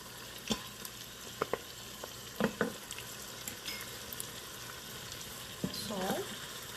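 Spices frying in oil in an Instant Pot for Pakistani nihari stew, a soft steady sizzle with scattered clicks and scrapes of stirring, fairly quiet and close, with no voices.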